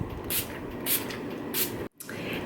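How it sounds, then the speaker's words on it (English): Three short hissing sprays of e.l.f. Mist and Set makeup setting spray misted onto a face, evenly spaced and close, over a steady low background hum. "Now I'm just setting my face using e.l.f.'s Mist and Set Spray."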